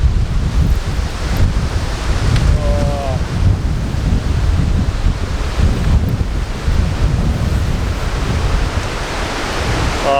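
Strong wind roaring in the Australian wilderness, a loud continuous rushing blast buffeting the microphone throughout, with faint snatches of a voice beneath it.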